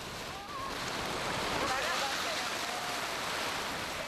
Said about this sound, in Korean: 드디어 밀려오는 파도에